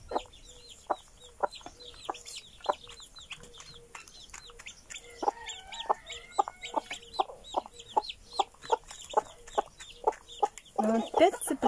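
A Silkie hen gives a rhythmic run of short, regular calling clucks to her chicks, close and fairly loud, with faint chick peeps overhead and a brief voice near the end.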